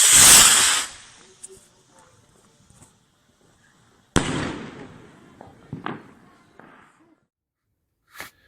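Supreme pack firework rocket launching, a loud close whooshing hiss at the start that fades, then a sharp crack followed by crackling pops and a last faint burst.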